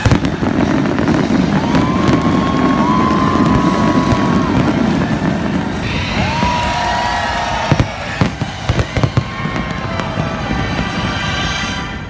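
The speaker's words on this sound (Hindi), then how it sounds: "कोलालमपुर में मुल्क की बुलंद तरीन इमारत टोटिन टावर्स पर शानदार आतिशबाजी का मुजाहरा किया गया" New Year fireworks over the Twin Towers in Kuala Lumpur, Malaysia: a dense, continuous barrage of crackling bursts and whistling rockets with sharp bangs near the end, over a steady roar of a large crowd.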